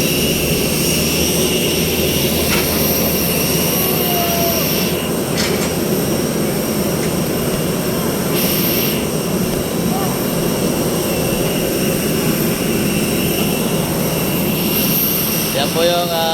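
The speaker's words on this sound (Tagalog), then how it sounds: "Katabi po natin yung Philippine Airlines" Philippine Airlines jet engines roar at Dumaguete Airport, a loud constant whine and rumble lasting throughout, close by and steady.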